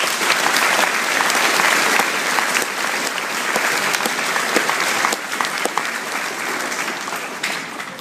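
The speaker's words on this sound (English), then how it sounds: "Please give a round of applause." A school audience gives sustained, dense applause for a police officer at a Veterans Appreciation ceremony, steady and loud throughout before easing slightly near the end.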